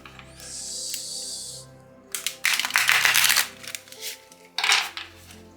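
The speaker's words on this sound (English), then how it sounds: "allow me to shuffle these cards for you." A deck of tarot cards being shuffled in a few quick riffling bursts, crisp and close, separated by short pauses.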